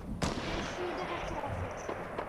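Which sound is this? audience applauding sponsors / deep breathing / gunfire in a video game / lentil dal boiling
gunfire in a video game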